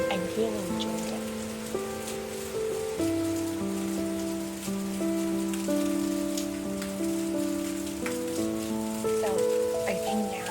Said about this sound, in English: this was the first real rain that we had after so long